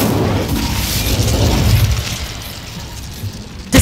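A fiery Incendio spell cast in Hogwarts Legacy, a loud broadband whooshing burst with a deep rumble that swells and fades over a few seconds, then a sharp new blast at the very end.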